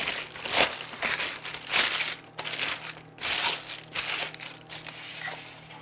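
Parchment paper crinkling and crumpling by hand in a kitchen, several loud close bursts of crackling in an uneven rhythm with brief pauses between.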